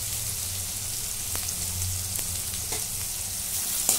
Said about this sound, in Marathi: कांदा असा चांगला लालसर भाजून घेतलेला आहे.